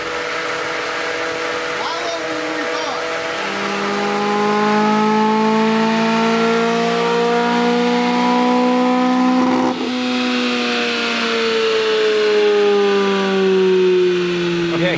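A race car engine on a dyno screams loudly through a long pull, its pitch climbing steadily, dipping briefly at a shift, then climbing again to a high sustained wail.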